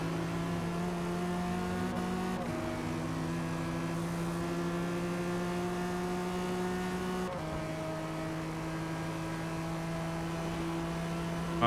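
A race car in a Forza race at Le Mans holds a loud, steady engine whine through a long run, with sharp gear shifts as pitch steps around two and seven seconds and no talk.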